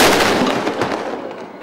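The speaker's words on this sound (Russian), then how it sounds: "Каждый полдень пушка пугает беспечных посетителей." The noon cannon at the Peter and Paul Fortress fires a single loud, booming blast that rolls off in a broad, fading rumble.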